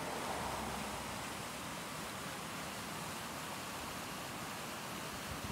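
Heavy river runoff after a rainstorm pours into Lake Superior, a loud, dense, unbroken rush of water with no pauses.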